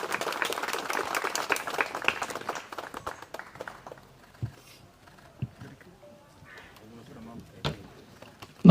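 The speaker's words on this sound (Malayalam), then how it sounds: "എല്ലാവരും ചേർന്ന് നല്ല കൈയടി കൊടുക്കാം" Audience applause at a film launch pooja ceremony, dense clapping for about three seconds that thins into scattered claps and fades, with talk continuing over the quieter stretch.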